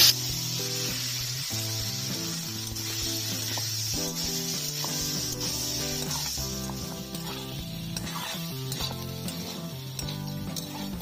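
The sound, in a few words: cut potatoes sizzling as they fry in a pan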